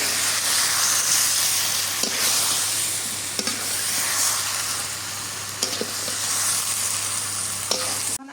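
Panch phoron and chili powder frying in hot oil, a steady loud sizzle with a few light stirring clinks, heard alone with no talk.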